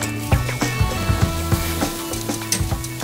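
Wagyu beef sizzling on a small tabletop grill, a steady close crackle and hiss with repeated soft knocks and scrapes, like food being moved or turned over the heat.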